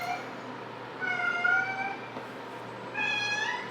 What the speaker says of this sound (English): my cat is being very loud right now